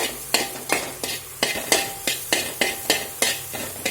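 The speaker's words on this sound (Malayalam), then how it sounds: "അതിലിട്ട് നന്നായി അങ്ങോട്ട് ഇളക്കാം." A moringa leaf thoran mixture stirred in a pan, with a spatula scraping and tapping the metal in a steady rhythm about every third of a second, close and clear over a faint sizzle.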